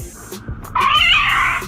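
A cat gives a loud, drawn-out meow that rises and holds for about a second, following a few quieter rustling sounds, with no voices present.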